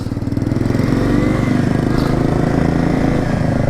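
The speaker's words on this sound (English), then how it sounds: "I can barely hear my bike right now over that KLR." Kawasaki KLR650 dual-sport motorcycle engine fitted with a non-factory aftermarket pipe, running steadily with a loud, deep, meaty pulsing exhaust throughout, close and continuous.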